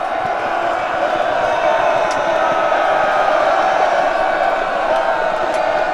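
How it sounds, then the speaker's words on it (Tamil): An agitated crowd ready to start a brawl clamors continuously, a dense, loud roar of many voices with shouts mixed in and no breaks. "தாங்களும் கைகலக்க ஆயத்தமாகி ஆரவாரம் செய்தார்கள்"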